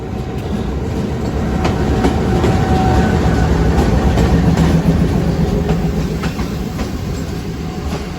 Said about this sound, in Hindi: सामने से रेलगाड़ी आ रही, मेरा ख्याल है अगर मैं गलत नहीं तो ये अवाम एक्सप्रेस है